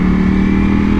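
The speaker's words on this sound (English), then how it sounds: "the stock exhaust sounds pretty badass" A 2021 Ducati Panigale V4S superbike idles through its stock exhaust, a loud, steady, close engine drone with a constant low hum and no speech.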